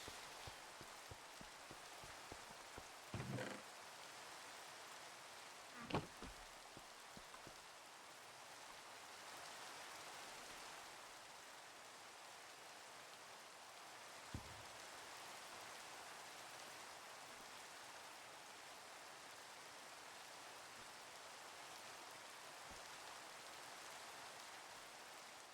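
Steady rain falling in the video game Minecraft, a soft continuous hiss of pattering drops, quiet and even, broken by a few faint brief thumps.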